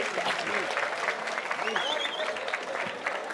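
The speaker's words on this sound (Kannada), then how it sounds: "ಎಲ್ಲರೂ ಚಪ್ಪಾಳೆ ಹೊಡಿತಾ ಇದ್ದಾರೆ" An audience applauding steadily, a dense patter of clapping with voices murmuring and calling out underneath.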